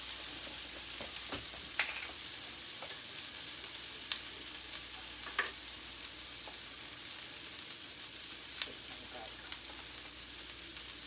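Broccoli frying in an oiled cast iron skillet gives off a steady, even sizzle throughout, with a few faint clicks of stirring.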